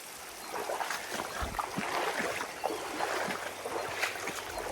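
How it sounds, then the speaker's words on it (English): Steady broadband rush of the Ellis River flowing over rocks in a wilderness setting, a continuous moderate wash of water with faint trickles and no voices. "This is the Ellis River."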